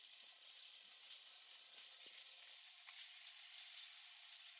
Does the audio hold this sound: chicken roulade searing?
yes